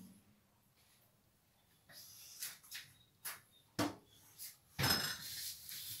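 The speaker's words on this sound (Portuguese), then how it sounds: "agora eu vou tirar do forno depois de 15 minutinhos" Homemade mini pizzas come out of a home oven with a series of clattering metal tray and pan knocks, several sharp clanks spaced irregularly, the loudest near the end.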